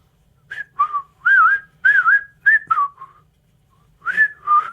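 A person whistles a birdlike tune imitating birdsong in short warbling phrases with brief pauses between them, close by and clear against a quiet background.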